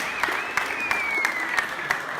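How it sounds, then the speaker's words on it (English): A crowd claps steadily at an Olympic weightlifting and CrossFit competition, with sharp individual claps and a sustained whistle or cheer over it, moderately close. "There was a lot of clapping, a lot of cheering."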